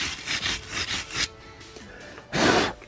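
A wire brush scrubs the rear brake caliper hanger of a BMW F3X, rasping in quick rhythmic strokes, then pausing before one more loud burst of scrubbing close by.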